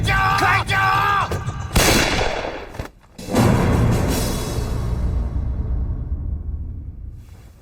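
Gunfire in a war film, with several sharp, loud shots and heavy booming blasts following shouted voices, then a long decaying rumble and reverberation.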